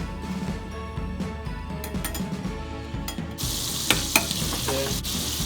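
Butter sizzles and crackles in a pan at the start of a béchamel sauce for seafood carbonara, a steady close frying hiss with scattered clicks and pops and no talk.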